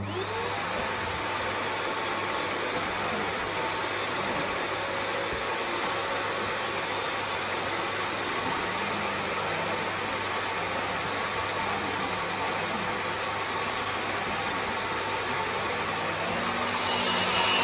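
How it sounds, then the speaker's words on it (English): A Nilfisk GM80 vacuum cleaner runs continuously on the floor, a loud, steady whine with a constant roar and hiss and no voices, rising slightly in level at the very end. "I'm just going to try it very quickly on the floor here."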